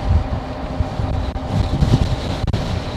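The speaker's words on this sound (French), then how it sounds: "il y a un très léger vent de côté" Crosswind buffets the microphone while riding a Vakole VT4 folding e-bike, a low, gusting rumble that swells and dips irregularly, with a couple of brief dropouts.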